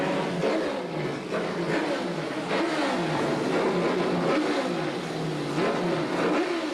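A Can-Am race car at Mosport Park roars past close by, the engine note rising and falling in repeated revving sweeps over a steady loud drone, with faint commentary.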